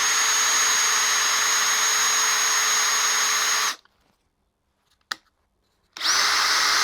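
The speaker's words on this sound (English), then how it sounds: "I've just drilled a small hole down the middle of the shaft." A power drill bores a small hole down the middle of a stuck terminal screw's shaft during a Suzuki DRZ400SM motorcycle restoration. A loud steady whine runs for several seconds, stops, a tiny click follows, then drilling starts again.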